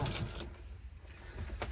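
Metal keys jangle and clink in a few short bursts, close by, with a low rumble underneath and no voices.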